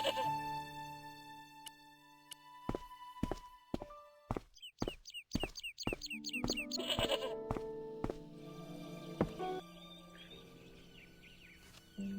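A goat bleats several times in the point-and-click adventure game Broken Sword 1: The Director's Cut, with quick wavering cries mixed among footsteps, knocks and other game sound effects over a quiet background.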